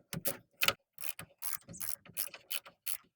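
Ratchet clicking in short repeated bursts as strut rod bushing bolts are tightened on a Nissan Frontier, close and fairly quiet, about a dozen quick strokes with brief pauses between them and no talking.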